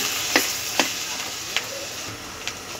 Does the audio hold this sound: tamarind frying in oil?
yes